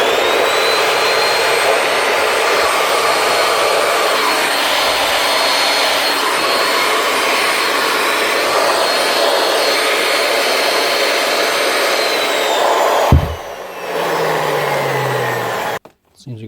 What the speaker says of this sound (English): One polisher up and running